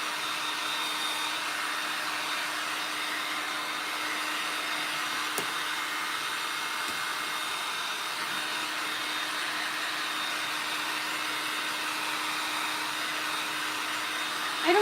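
Heat tool running steadily at close range to dry freshly coated lantern pieces, a constant whooshing blower hum that stays level throughout with no talk.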